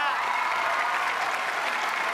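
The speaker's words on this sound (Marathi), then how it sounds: "जोरदार टाळ्या वाजून द्या." A television comedy show audience breaks into loud, sustained applause in a studio, dense and even clapping filling the whole moment with no talk over it.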